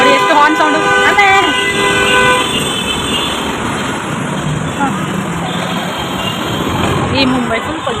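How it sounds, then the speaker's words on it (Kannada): Vehicle horns blare in heavy Mumbai road traffic, several loud toots overlapping in the first seconds before settling into a rumbling wash of engines, with people talking nearby. "ಎಷ್ಟು ಹಾರ್ನ್ ಸೌಂಡು ಅಲ್ಲೇ."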